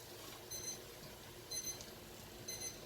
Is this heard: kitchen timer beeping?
yes